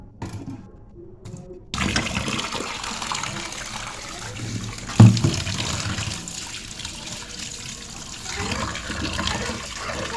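Running tap water washes cut dried fish in a basin, starting after a brief quiet moment and then streaming steadily, with a sharper splash midway and faint clinks in the background.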